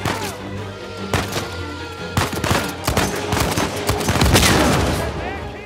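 Rapid gunfire from the Uncharted 4 video game, a dense burst of sharp, loud shots in quick succession with repeated cracks and impacts, building toward the end.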